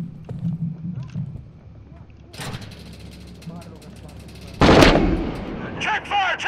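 Gunfire in the combat game Six Days in Fallujah, with scattered shots early on and a loud burst near the end, mixed with talk over team radio.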